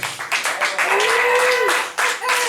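Audience applause for a performer at a hedonistic variety show, a steady wash of many hands clapping at moderate volume, with voices and a tonal whoop sliding through it.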